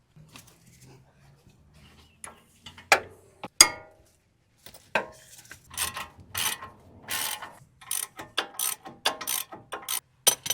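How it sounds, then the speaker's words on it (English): Ratchet clicking as 17mm brake caliper bolts are loosened on a 5th-gen Toyota 4Runner, with close, crisp bursts of rapid pawl clicks after a few metallic knocks, growing busier toward the end. "now we can take out these 2 caliper bolts. These are going to be 17mm."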